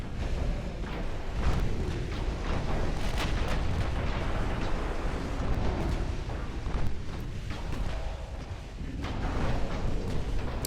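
Naval gunfire from the warship battle game Ultimate Admiral Dreadnoughts: a dense, continuous barrage of heavy artillery booms and rumbling blasts with no pause, loud and close.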